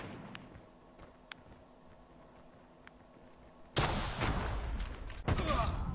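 Sniper fire in Call of Duty Mobile: faint ticks over a quiet background, then two sudden loud shots with crackling tails, the second hitting near the end.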